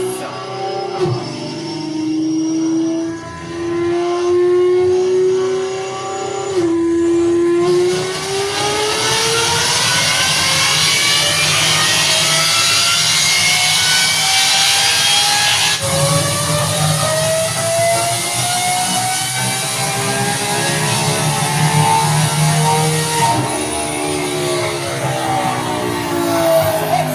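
A Lamborghini Revuelto hybrid V12 with a Gintani exhaust revs hard on gas and electric power together, a loud sustained engine roar climbing and holding in pitch across the whole stretch, with a brief dip before surging again.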